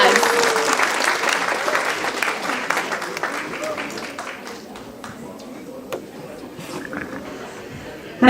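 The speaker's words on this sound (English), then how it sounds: "please give yourself a round of applause" An international conference audience gives sustained applause, a dense wash of many hands clapping that is loudest at the start and gradually thins to scattered claps, with faint murmuring underneath.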